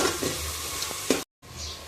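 Tomatoes and onions frying for khichdi are stirred in a pan, a steady close sizzle with soft scraping strokes, cut off by a brief gap before the frying resumes.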